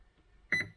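Two short electronic beeps in quick succession from a Sonicwake V2 electronic speed controller during programming, close and clear, after a moment of near silence.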